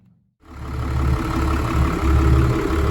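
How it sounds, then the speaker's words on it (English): After a brief quiet moment, a Volvo Penta TAMD41-P marine diesel with a refitted turbo starts and settles into a loud, steady, rumbling run. "I'll give the engine a start and let it run up and go from there."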